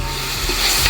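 Chopped onions with coarse rock salt sauté in hot oil for chicken biryani, a loud, close, steady sizzle with stirring scrapes running throughout, no voices.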